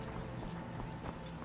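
Horse hooves clip-clop in the video game Skyrim Dragonborn, a quiet, steady run of hoofbeats with no voices over them.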